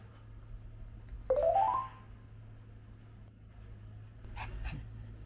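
A toy poodle gives a single rising whimper, then quieter panting-like breaths follow, close by indoors over a steady low hum.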